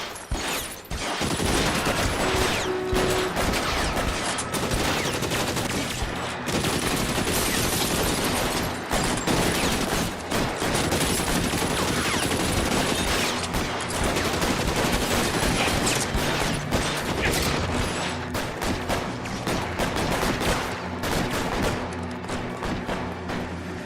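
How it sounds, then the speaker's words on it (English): Sustained gunfire in the L.A. Noire video game: dense, continuous volleys of shots and bursts crackle loudly for the whole stretch, layered into a thick barrage with no talking. "Bullets start flying."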